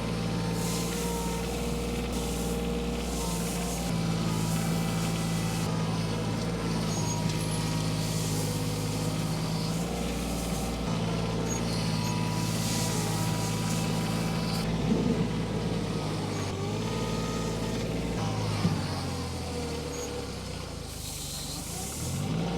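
A heavy truck hauls gravel to septic system trenches, its diesel engine rumbling steadily and close throughout, with a hiss of air brakes and clattering as the load is dumped near the end.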